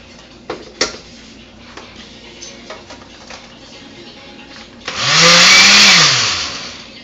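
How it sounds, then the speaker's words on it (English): Gelatin and cold milk whirl in a kitchen blender that roars to life loudly for about two seconds, its motor pitch rising and then dropping away as it stops, after some faint clinks and handling sounds. "Pop the top on the blender,"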